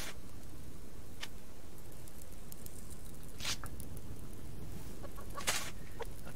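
Chickens cluck softly at a homestead, a few faint, scattered calls over a steady low background noise, with no talking.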